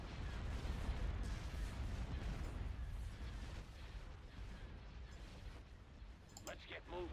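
Capital ships open fire in a Star Wars: Empire at War space battle: a faint, continuous rumble of cannon blasts and explosions, with a few brighter bursts near the end.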